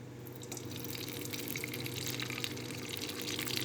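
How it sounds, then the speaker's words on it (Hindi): Mustard oil streams into a kadhai as a soft, steady liquid pour, close and continuous with a faint trickling hiss, with no talk. "4 टेबलस्पून मैंने इसमें सरसों का तेल डाला है"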